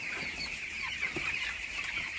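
A dense, steady chorus of chickens peeping and clucking together on a poultry farm, high-pitched and continuous, like a crowded poultry shed.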